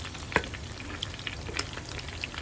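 Skinless longganisa sausage fries in its own rendered oil, giving a steady low sizzle with faint scattered pops and one sharper crackle early on, with no voices.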